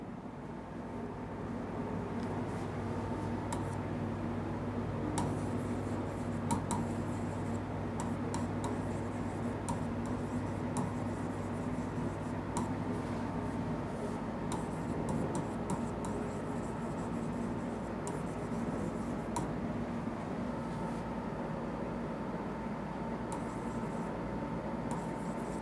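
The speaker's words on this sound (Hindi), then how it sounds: "तो यहाँ मैं लिख देता हूँ आपके लिए," Chalk or marker writing notes on a board during a geography lecture, a steady continuous scratching that runs for the whole stretch with no talking.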